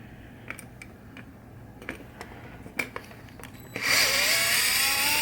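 Power drill backing screws out of a coil bracket on a 1976 Williams Grand Prix pinball machine, beginning as light clicks and handling knocks, then one loud, steady close-up whir that runs through the last second and a half.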